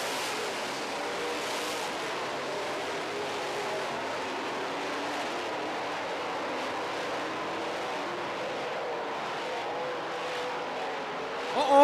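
Late model stock cars race on a dirt track, heard as a continuous broad engine roar from a crowd of cars, steady and moderately loud for the whole stretch, with a slight swell at the end.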